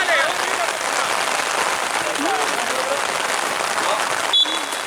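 Steady heavy rain pours down at an outdoor football match, a dense continuous hiss throughout, with faint voices and a brief tonal squeak near the end.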